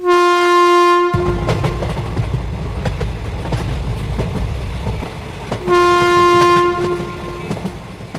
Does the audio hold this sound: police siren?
no